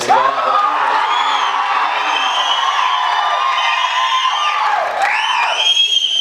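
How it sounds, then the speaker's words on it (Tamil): Crowd at a film audio launch roars with cheering, whoops and shrill whistles, a loud, sustained wave of noise from a packed audience. "அதை சொல்லி முடிக்கிறதுக்கு முன்னாடி வர இந்த கைத்தட்டலும் விசிலும்"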